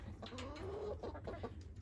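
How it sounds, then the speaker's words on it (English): Barnyard mix chickens clucking in a coop at morning feeding, several close birds giving repeated short clucks and a drawn-out call, over a low steady background hum. "to my barnyard mix chickens."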